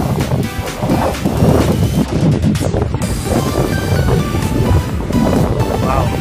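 The swollen Pasig River rushes loudly and continuously, a dense roar of high water with heavy wind buffeting the microphone throughout.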